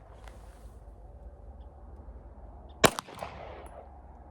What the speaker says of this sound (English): To shoot a 12-inch gong offhanded at 50 yards